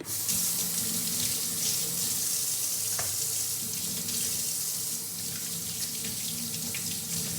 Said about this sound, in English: a chef must always wash their hands